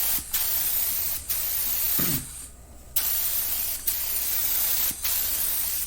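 Short hissing bursts of spray-can primer laid down as a light tack coat on a rusty Chevy car fender, several steady sprays with brief pauses between them, close and clear.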